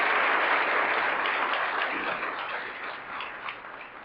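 Audience applause at a golf community meeting, a dense steady patter of many hands clapping that starts strong and gradually thins out over a few seconds, with no talk over it.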